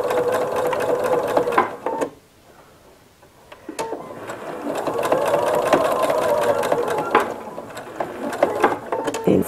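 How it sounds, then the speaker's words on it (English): A sewing machine stitches binding along an Easter egg pot holder, its steady mechanical whir running loud and close, then breaking into a brief pause before resuming with a continuous rattling drive. "begin stitching it together all the way down"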